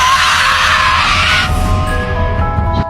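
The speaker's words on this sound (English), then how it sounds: "The monster let out a furious scream." A monster in a creepy-town story lets out a loud, furious scream that fills the clip for nearly three seconds, harsh and roaring at first, then trailing into a lower wavering howl.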